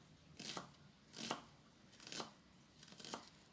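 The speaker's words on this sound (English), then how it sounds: "we need to chop the other ingredients" Knife chopping onion and bell pepper on a cutting board, four separate bursts of cuts spaced about evenly, close and fairly quiet.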